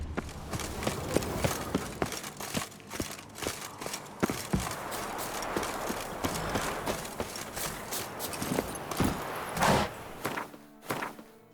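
Geralt's horse Roach gallops in The Witcher 3, with rapid rhythmic hoofbeats thudding close and loud throughout, carrying a steady driving cadence with slight variations in intensity.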